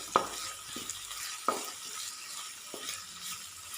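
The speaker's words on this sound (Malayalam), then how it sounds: "ഇതെല്ലാം കൂടെ വെളിച്ചെണ്ണയിലൊന്ന് ഇങ്ങനെ" Mustard seeds, cumin, shallots, dried red chillies and curry leaves fry in coconut oil for a Kerala dal curry tempering. A quiet, steady sizzle with a few sharp pops and spatters is heard close by.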